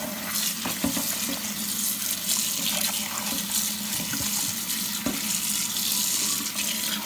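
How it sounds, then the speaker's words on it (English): Running tap water streams steadily over grape leaves being washed in a kitchen sink, a continuous close splashing hiss with a few light knocks and rustles, no talking. "we're gonna go ahead and wash the grape leaves."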